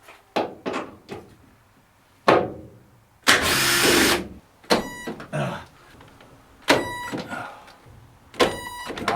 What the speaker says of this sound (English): some of these are seized in place, so I'm just going to drill them out